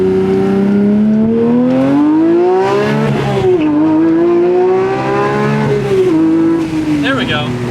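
A manual Porsche 992 GT3 with a titanium exhaust revs hard through rising and falling engine notes, loud and close, with a quick tire chirp near the end while people talk over it.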